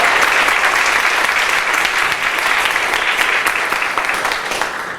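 A theatre audience applauds playwright Jasper at an Indigenous theatre symposium, with loud, dense, sustained clapping from many hands that holds steady for several seconds and then begins to ease off slightly at the end.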